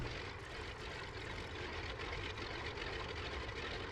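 A Ford Trimotor's engines drone steadily and loudly through takeoff in Microsoft Flight Simulator, a dense, continuous propeller-engine roar with no break.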